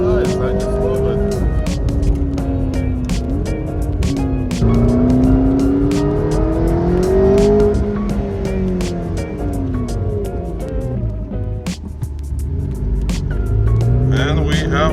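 Lamborghini supercar driving on the road, a loud engine close by that revs up and down through gear changes over a steady road rumble, with people talking intermittently over it.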